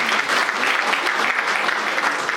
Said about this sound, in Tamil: நல்ல ஒரு கைத்தட்டு கொடுக்கலாம்.